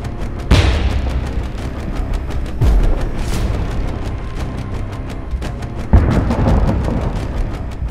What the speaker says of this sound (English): They aim the gun and fire.